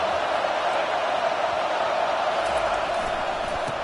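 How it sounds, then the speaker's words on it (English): A stadium crowd in a Madden football video game roars steadily on a third-down defensive stand, a dense, unbroken wall of cheering noise holding at an even level throughout. "Decibels rising as the crowd gets behind this defense on 3rd down."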